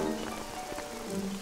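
Steady rain falling in an animated cartoon scene, a continuous soft patter and hiss on surfaces with a low background hum, brief and uniform with no talking.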